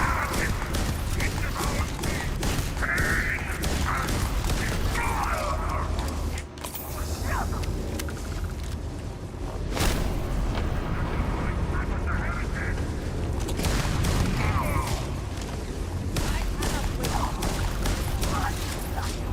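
Video game gunfire, with rapid repeated shots cracking out in loud bursts throughout, mixed with game noise and a voice talking over it.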